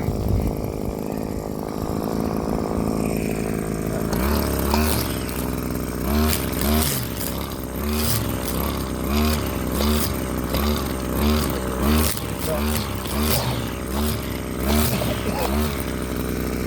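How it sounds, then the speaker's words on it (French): A small, light two-stroke string trimmer buzzes near and loud, first idling, then revving in a rapid rhythmic series of pulses as its head is tapped against the ground to release line. "je vous présente un rotofil, moteur 2 temps, un tout petit moteur qui est très léger, très facile à manœuvrer."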